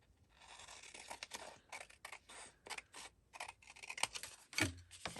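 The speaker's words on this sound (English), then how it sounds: "we're going to cut it in half this way" Scissors snip through scraps of paper to halve them for little handmade notebooks, giving a run of close, crisp cuts and rustles in short irregular bursts, with no talking.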